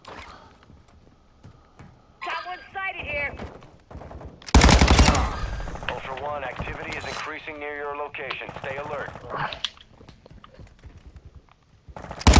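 Gunfire in Call of Duty MW2 DMZ, a few isolated shots followed by a loud burst of rapid fire, with people talking over and between the shots.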